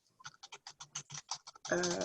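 Rapid typing on a computer keyboard, about a dozen distinct keystrokes in an uneven rhythm, close and fairly quiet, followed by a louder burst of other sound at the end.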